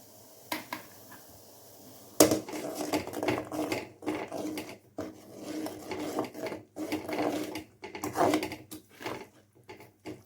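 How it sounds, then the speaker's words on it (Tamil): A utensil scrapes and stirs thick flour dough in a pot over low heat for kozhukattai, in repeated close strokes, with short pauses between bursts of scraping. "அடுப்பு சிம்மில் வச்சுட்டு மாவை வந்து கொஞ்சம் கொஞ்சம் கொட்டி கிண்டலாங்க"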